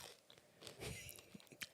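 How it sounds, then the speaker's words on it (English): Several people chewing and biting food during a casual podcast chat, with soft crunchy bites and mouth noises up close, fairly faint, with no talk over them. "Guys, we're chewing."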